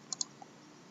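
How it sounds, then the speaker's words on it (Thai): Two crisp computer mouse clicks come in quick succession, followed by a fainter third tick, all quiet against a low room hiss. "ให้คลิกที่ new ครับ"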